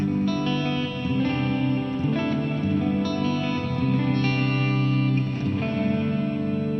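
A guitar rings through a TC Electronic Hall of Fame 2 reverb pedal, sustained chords washing into a thick, lingering hall reverb tail that stays loud and continuous, with no talking.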